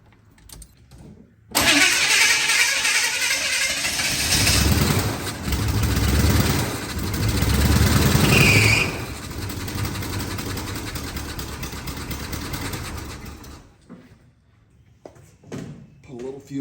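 A carbureted squarebody 4x4 truck engine cranks and catches, then runs loud and rough at idle with some revving, close up, before it cuts out near the end; voices talk around it.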